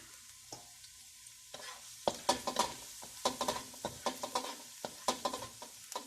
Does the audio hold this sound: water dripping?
no